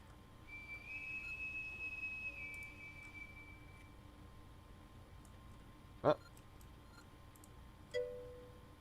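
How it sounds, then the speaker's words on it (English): In a video game, a steady high shift-change whistle sounds for a few seconds and then fades, followed later by a sharp bright ping and a short second tone over a faint background hum. "I guess the whistle is a shift change?"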